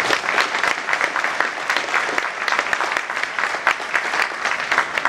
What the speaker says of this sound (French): Merci d'applaudir Carlos Machado.